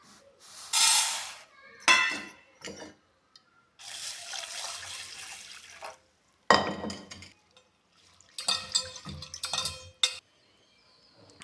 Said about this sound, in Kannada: ಅದೇ ರೀತಿ ಬೇಳೆನೂ ಒಂದು ಪಾತ್ರೆಗೆ ನೀರು ಹಾಕಿ ತೊಳ್ಕೊತೀನಿ.